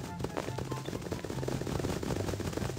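Gunfire in the Garry's Mod game, a dense run of rapid shots like an automatic weapon, loud and continuous throughout with no talk over it.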